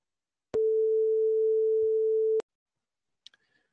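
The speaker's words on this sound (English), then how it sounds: "this sound kind of sounds more like a dial tone than a musical instrument" Plain synthesized tone, a pure steady note resembling a telephone dial tone, holds for nearly two seconds at constant loudness with clicks at its hard start and stop, followed by a few faint taps.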